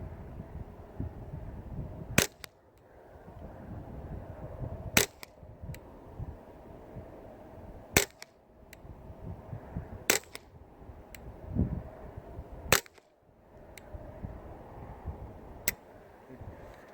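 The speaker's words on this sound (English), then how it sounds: "Okay, 5 rounds, 50 yards, suppressor." A suppressed Ruger 10/22 rifle fires five spaced rounds at 50 yards, each a sharp muffled crack standing out from a quiet outdoor background.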